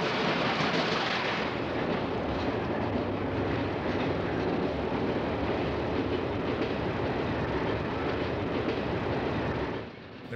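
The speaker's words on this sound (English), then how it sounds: "Santa Fe operated many of these distinctive large cabooses with a cupola located near the end of the body." A 1970s Santa Fe train with a large cupola caboose rumbles past in the Chicago southwest suburbs, its steady wheel roar filling the air before easing off at the end.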